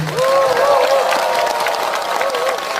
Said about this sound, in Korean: 그 손길들을 위해서 여러분 박수 한번 주시죠